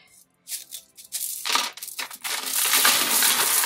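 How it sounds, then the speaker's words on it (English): Sea glass pieces poured into a bowl of warm soapy water with washing-up liquid, giving clinks at first and then a sustained loud, dense rattling clatter of glass, close up with no talk. "Pour in the sea glass."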